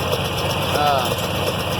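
A Farmall 706 tractor engine runs at a steady low rumble throughout, with someone talking over it.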